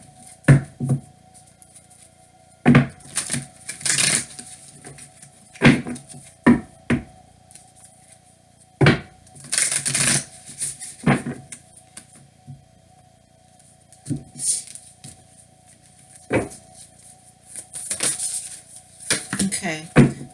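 Tarot cards being drawn and handled make scattered soft taps, flicks and shuffling rustles at close range, separated by quiet pauses.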